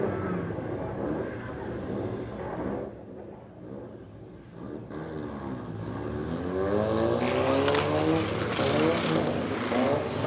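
Race cars roar off the start at Motordrome Speedway during a Crash-A-Rama event, a dense wall of engine noise that swells as the pack accelerates, with rising revving tones near the end and crowd or announcer sound mixed beneath.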